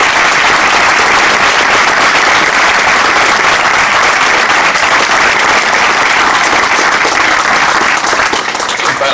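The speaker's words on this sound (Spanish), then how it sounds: "pido un aplauso a mis camaradas para ti" A crowd gathered for a tribute at Aravaca cemetery applauds loudly and continuously, a thick, sustained wash of many hands clapping for several seconds with no talk.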